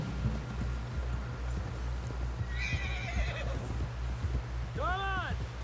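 A horse in Red Dead Redemption 2 gives a clear whinny near the end, after hoof clip-clops and a steady low rumble. A voice speaks at times.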